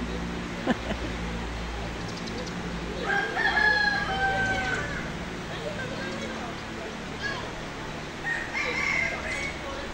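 A rooster crows twice on a farm, the calls standing out amid background ambience and people talking nearby.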